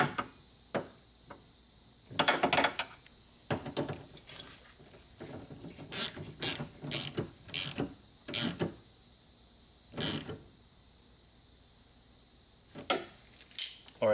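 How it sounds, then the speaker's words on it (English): A wrench tightens a 10mm bolt on a Hyundai Elantra outside door handle, giving scattered close metallic ratcheting clicks and taps in short irregular bursts over a quiet background. "now I'm gonna tighten this 10mm bolt"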